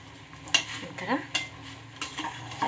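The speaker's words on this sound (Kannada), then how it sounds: "ಚೆನ್ನಾಗಿ ಮಿಕ್ಸ್ ಮಾಡಿಕೊಂಡು ಒಂದು ಐದು ನಿಮಿಷವರೆಗೂ ಇದನ್ನ ಬೇಯಕ್ಕೆ ಬಿಡಬೇಕು" Black-eyed peas cooking with dill leaves are stirred in a pan, a spatula scraping and clinking against the metal in a few quick strokes over a faint, steady sizzle.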